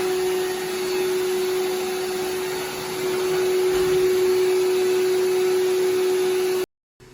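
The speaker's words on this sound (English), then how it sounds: "The rest of these tests were done with the vacuum actually on, cleaning the dirty floor in my garage." A shop vac converted into a robot vacuum runs steadily while cleaning a dirty garage floor. Its loud, constant motor whine and airflow roar dip briefly once, then the sound cuts off abruptly near the end.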